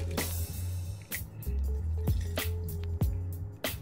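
Wet cold brew coffee grounds are poured through a colander, giving squishy, gloopy pours and drips at close range with a low hum underneath.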